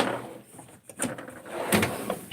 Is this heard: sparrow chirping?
no